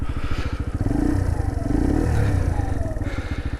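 A carburetted motorcycle engine idles loudly and close by just after starting, with a fast, even pulsing beat and slight rises in pitch.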